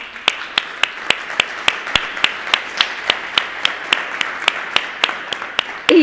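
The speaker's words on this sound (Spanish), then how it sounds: "les pido primero un fuerte aplauso para los tres de bienvenida" Slow, evenly spaced clapping at a Spanish-language panel event welcoming three speakers, sharp individual claps repeating about every third of a second over a faint background wash.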